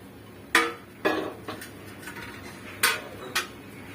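A cooking pan set onto a kitchen stove gives several light, close metallic clanks, two early knocks and two more later, with faint rattles between and no speech.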